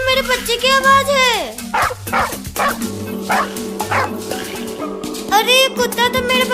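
Cartoon dog barking and yipping as it chases a kitten, with frantic animated voices talking throughout and music underneath.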